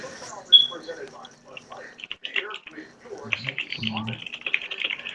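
Clattering computer keyboard typing, quick irregular clicks running in the background while a person talks over it.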